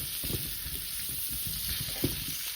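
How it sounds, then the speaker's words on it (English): Potatoes frying in butter in a pan give a steady, close hiss with scattered crackles and a faint stirring motion, continuous throughout and without any voices. "I decided I'm gonna put them on a pan with butter instead and hope for the best"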